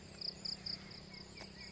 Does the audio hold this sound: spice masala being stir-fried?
no